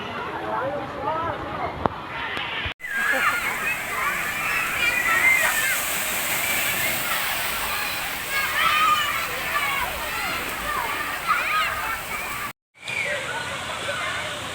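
Water sloshes and splashes continuously at a busy waterpark swimming pool, with a steady wash of water noise and children's voices mixed in, and people talking nearby throughout.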